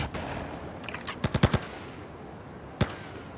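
Gunfire in GTA Liberty City Stories, a quick burst of four sharp shots followed by a pause and one more shot, fairly faint over quiet game ambience.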